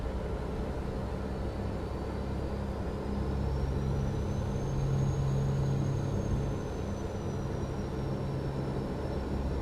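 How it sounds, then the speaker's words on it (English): Freightliner FLD truck from American Truck Simulator coasting, a smooth quiet engine rumble with steady road noise and a faint rising and falling whine, no talking. "Oh, truck's just like coasting. Listen to that. It's buttery, quiet, and smooth."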